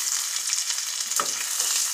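Pork fat frying with eggs in a folding pot, a close, steady crackling sizzle with a brief stir near the middle and no talking.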